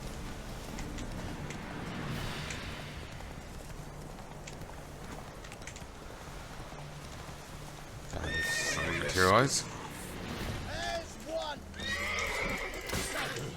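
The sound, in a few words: horse neighing and hoofbeats in The Witcher 3 video game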